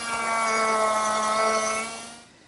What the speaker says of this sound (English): I've switched over to a dovetailing bit. A couple passes on each side should form that dovetail.